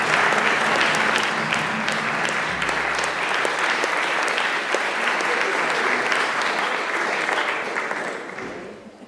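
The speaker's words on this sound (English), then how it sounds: "How about a nice round of applause for Madison Scott?" An audience at a jazz piano showcase breaks into sustained, dense applause that holds steady for several seconds and then fades away, with a few brief voices mixed in.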